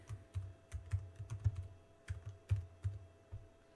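Rapid keystrokes on a computer keyboard as a command is entered at a Cisco 3850 switch console, an irregular burst of close, crisp clicks with brief pauses between key groups.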